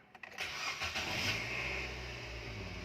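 A 2017 Nissan Almera's engine cranks briefly and catches, then settles into a steady, fairly loud idle right after a battery replacement, with no talking.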